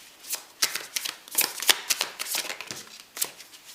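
Tarot cards are shuffled by hand during a psychic reading, giving quick crisp riffling bursts in an uneven rhythm, close and clear with no talking.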